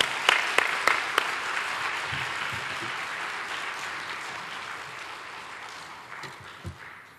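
A church congregation claps to welcome the pastor, opening with a few sharp individual claps before settling into a sustained, even wash of applause in a large room that gradually fades toward the end.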